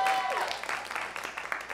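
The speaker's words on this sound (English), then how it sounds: "clap your hands, everyone" An audience claps together after being urged on by a host, a broad burst of applause that thins out over the short stretch, with faint background murmur.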